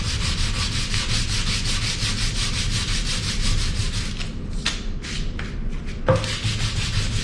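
Sandpaper rubs steadily over a wooden newel post in a dense, continuous scratchy hiss up close, breaking into a few short strokes near the end, with no talking.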